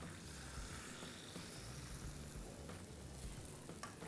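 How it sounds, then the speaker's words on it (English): Beaten eggs for a potato, olive and cheese omelette hit a hot pan, producing a steady, close sizzle and frying hiss that continues evenly throughout. "it's time for the eggs to go in"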